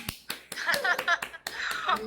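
Several sharp hand claps from a small group indoors, spaced irregularly in quick succession, close and moderately loud.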